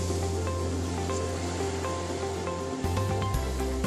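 Waves wash onto a beach in a toy doll play scene, a steady broadband surf roar filling the whole stretch alongside faint tonal background music, with a short shift in texture near the end.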